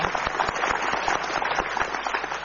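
Dense applause from a studio audience on an Indonesian talk show, steady and sustained, with many overlapping claps filling the whole stretch close and loud, with no voices over it.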